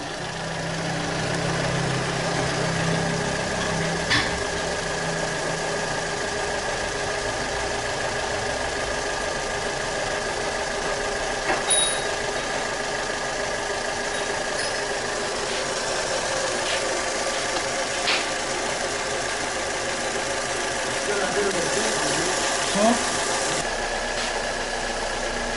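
Fiat Punto petrol engine idling steadily with the bonnet open during an air sensor repair, a smooth, even hum with a faint mechanical ticking, close and constant throughout with no speech.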